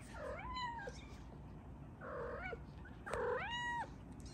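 A mother cat gives three drawn-out, rising-and-falling meows close by, separated by short pauses, over a steady low background hiss.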